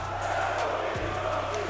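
Crowd noise fills an arena at the Manchester Major Dota 2 grand finals between Team BDS and beastcoast, a loud, steady roar of many voices with no break.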